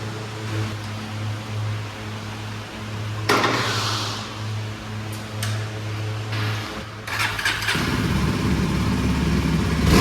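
Royal Enfield GT650 motorcycle idling and revving during a test ride at a showroom, a steady low engine drone with a louder rise partway through and rough road-like noise building toward the end.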